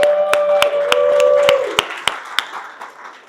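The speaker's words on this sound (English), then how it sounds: "Give them a round of applause as well." Sparse clapping from a small audience at a business income presentation: a handful of sharp, separate claps spaced unevenly, following a brief steady tone, then thinning out to a few last claps.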